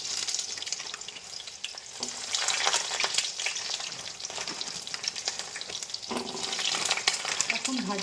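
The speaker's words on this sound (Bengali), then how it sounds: "এখন ভাজছি," Food frying in a pan crackles and sizzles continuously up close, with stirring scrapes and louder spattering bursts throughout.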